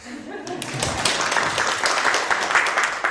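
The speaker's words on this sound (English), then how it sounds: "Give her a clap." An audience claps for a woman at a road safety talk, a short swell of applause building after a moment of speech and continuing to the end.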